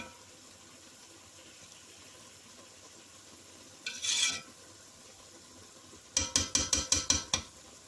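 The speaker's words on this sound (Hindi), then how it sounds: "आहिस्ता से उठाना है और पलट देना है। ताकि चावल ना टूटे।" Sweet yellow rice simmering in a pot is gently lifted and turned, giving a soft scraping stir, then a quick burst of about seven sharp clinks near the end, all fairly quiet.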